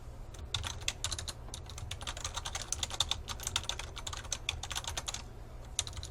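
Quiet, rapid clatter of keys on a computer keyboard while entering a title into a spreadsheet cell, a steady run of close, light taps with short pauses over a low background hum.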